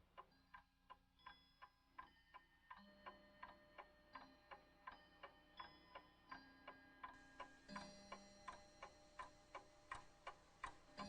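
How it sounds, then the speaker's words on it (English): A clock ticks steadily and evenly, each tick sharp and distinct, with a faint low hum beneath; fairly quiet and close. "The clock marking off each hour of dread"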